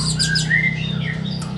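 A caged orange-headed thrush gives a short burst of squawky, chirping calls, close and loud over a steady low hum.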